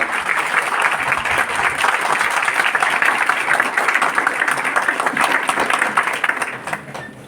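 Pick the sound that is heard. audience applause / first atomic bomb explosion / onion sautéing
audience applause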